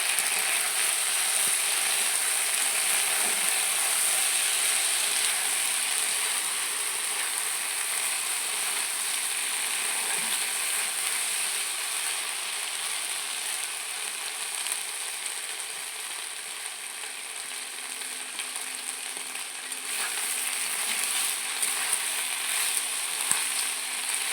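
Taro frying in a pan with chili paste and cumin spices for a pangas fish curry, giving a steady, close hiss and sizzle with faint scraping that runs unbroken throughout, no voices.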